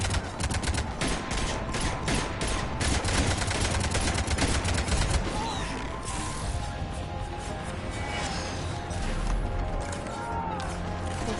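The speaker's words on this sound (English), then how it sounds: "with the cannons going," Cannons fire in Mass Effect 3's Omega DLC as a dense, continuous barrage of rapid shots and impacts, loud and busy, with battle noise and faint voices underneath.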